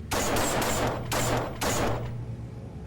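Bolt pistol gunfire sound effect for a Warhammer 40k tabletop battle report, a salvo of three loud, close, rattling bursts in quick succession, each with a hissing tail, and no voices.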